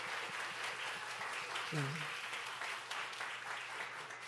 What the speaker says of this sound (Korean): 함께 박수해 줄까요?